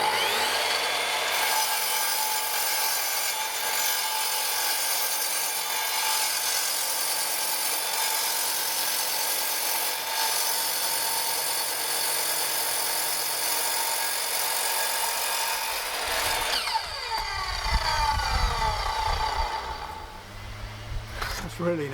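An Evolution 255 circular saw with a diamond blade cuts a 2-inch slab of hard yellow York stone with a loud, continuous, close grinding whine. Rumbling handling noise and a voice follow near the end.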